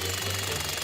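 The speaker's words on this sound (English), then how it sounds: "we are going to have to finish breaking the wall with the jackhammer" Jackhammer breaking through a thick stone wall of a château during storm-damage repairs, heard as a steady, continuous mechanical pounding with a low engine drone throughout the short span.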